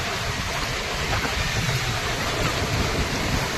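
Sea waves wash onto the beach at Murudeshwara in a steady, broad roar of surf, mixed with wind buffeting the microphone, with no talk.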